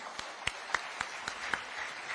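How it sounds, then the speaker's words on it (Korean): An audience at a People Power Party gathering applauds after former president Park Geun-hye's speech, sparse rhythmic claps with an even beat over a steady room murmur. "정말 귀한 말씀 전해주신 우리 박근혜 대통령님께 다시 한 번 더 뜨거운 박수 보내주시기 바랍니다"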